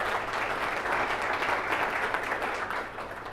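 An audience at a motivational talk claps steadily for a guest, a dense, sustained roomful of applause at moderate volume that eases slightly toward the end.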